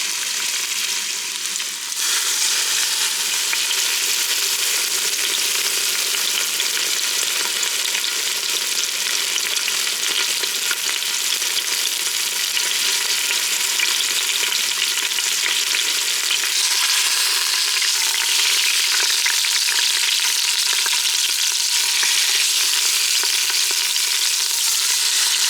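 Pork belly pieces searing in hot avocado oil inside a pressure cooker, a loud, steady sizzle and crackle of frying that carries on without pause, with no speech.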